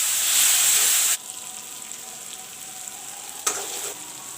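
Chopped tomatoes drop into a hot pan with a loud burst of sizzling that quickly settles into a softer, steady fry, with a brief stir or clatter near the end.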